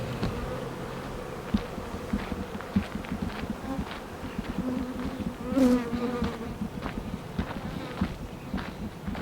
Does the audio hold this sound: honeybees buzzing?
yes